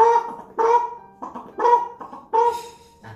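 A human voice imitates a chicken in five short, clucking bursts spaced irregularly, close and clear against silence.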